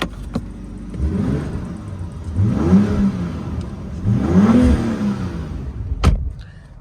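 The engine of a 2025 BMW X3 M50 revs up in three rising blips, each climbing and falling back toward idle, heard close and loud with nobody speaking.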